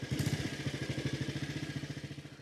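Early motorbike engine chugging steadily at close range, its rapid even firing pulses clattering on without pause and no voices over it.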